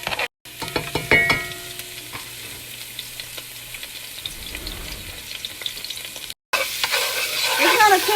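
Finely chopped bell pepper, red onion and garlic sauté in oil in a pan, crackling and sizzling up close with stirring clatter. Two brief dropouts break the sound, and it grows louder and busier toward the end.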